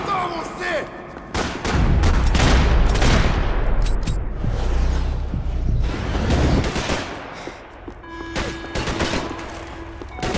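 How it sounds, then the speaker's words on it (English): Grenade blasts and sustained gunfire in the video game Max Payne 3, loud and close, with deep booms and rapid shot bursts running through most of the stretch and a voice briefly heard under the action. "Grenades."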